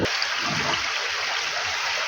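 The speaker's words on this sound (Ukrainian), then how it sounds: "ну вода все тече и тече" Rainwater flows and splashes steadily after light rain, a constant rushing stream heard up close with no other sounds.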